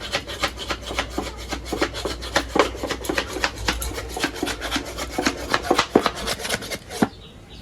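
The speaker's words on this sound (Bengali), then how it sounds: "এখন গাজরও চপ করে নেব।" Carrot pieces are chopped in a manual food chopper in a home kitchen, giving a fast, steady run of close rasping, scraping chops for several seconds before it stops abruptly near the end.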